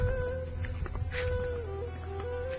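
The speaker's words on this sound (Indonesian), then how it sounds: "ciri khas di pedalaman ada suara tonggeret ya" Cicadas in a remote, natural rural area make a steady, continuous high-pitched buzzing drone that runs loud and unbroken throughout. Faint low rumbling and scattered background sounds sit beneath it.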